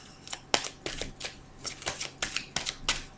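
Tarot cards are shuffled in a series of quick, crisp riffling bursts at an irregular rhythm, close and fairly quiet, with no talking.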